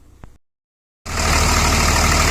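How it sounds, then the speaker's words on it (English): A 2004 Dodge Ram with a 5.9 Cummins diesel engine cranks and fires up after a short silence, then settles into a loud, steady, close idle. "we're going to start it up and have a look at it at an idle"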